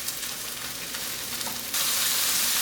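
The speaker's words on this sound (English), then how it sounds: "now we're going to saute our mushroom and bell pepper" Mushrooms and bell pepper sauté in olive oil with a steady hiss, and the crackle grows louder partway through.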